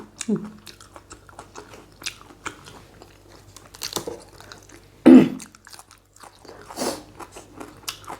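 Raw meat chewed close to the mic, with wet bites and soft squelching at irregular intervals, one louder crunchy bite midway, and quiet speech and rustling in between.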